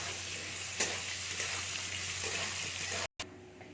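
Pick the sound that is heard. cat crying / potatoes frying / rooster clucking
potatoes frying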